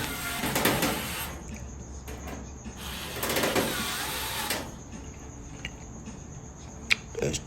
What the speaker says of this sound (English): I'm starting the screws off here.